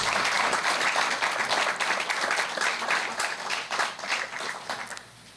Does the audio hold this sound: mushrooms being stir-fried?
no